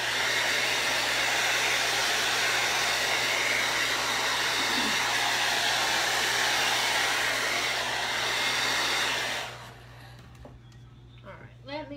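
Hair dryer blowing on a freshly painted watermelon artwork, a loud, steady broadband whoosh running for about nine seconds before switching off, followed by quieter room sounds.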